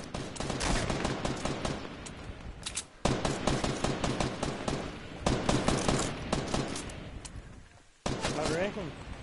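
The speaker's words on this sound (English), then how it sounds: "Oh, they're shooting at me." Rapid gunfire rattles through a video game match in sustained automatic bursts separated by short pauses. The shots are loud and close, and voices talk over them.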